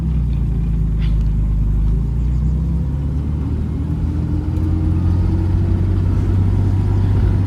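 A 1958 Jaguar XK 150 engine rumbles steadily as the car rolls slowly around a parking lot on a hot day, a low continuous drone with a faint rise in pitch partway through and no talking.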